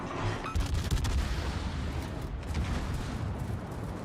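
Heavy naval gun salvo from a warship in World of Warships, a loud sustained rumble of overlapping booms rolling on for several seconds with no talk over it.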